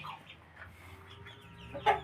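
Fighting cocks kept for breeding cluck faintly and briefly at a distance, with one sharper, louder call near the end, amid quiet outdoor background.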